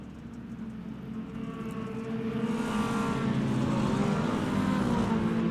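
Stock cars of the RPES Extreme Outlaw Stock Tour roar off at a green-flag start, their engines building from a steady rumble into a loud, sustained full-throttle drone that swells and stays strong to the end.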